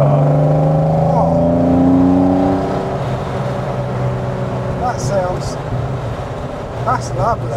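A BMW 3.0 CSI engine hums low and muted from inside the cabin while driving on a road, its pitch rising and falling a little, with people talking throughout.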